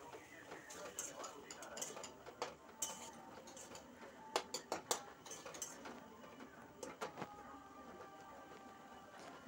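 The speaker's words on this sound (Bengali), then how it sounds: "এবার এটাকে একটু ভালো করে কষিয়ে নেব।" Pointed gourd and potato curry with lentil dumplings is sautéed in a pan, with scattered clinks and taps of a spatula against the pan over a faint sizzling background, near and quiet.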